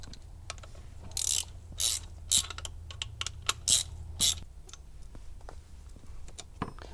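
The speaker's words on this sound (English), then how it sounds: "with the 3/8 socket, we will take off the plate" A ratchet with a 3/8 socket turns bolts off a trim cylinder plate in quick clicking bursts, pausing between strokes, close and fairly quiet.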